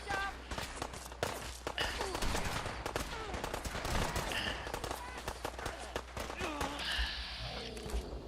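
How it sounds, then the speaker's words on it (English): Dense gunfire erupts in a Fallout 4 settlement, with rapid overlapping shots and bursts sustained throughout, voices talking underneath the chaotic exchange. "I never saw that much gunfire in a settlement in my life"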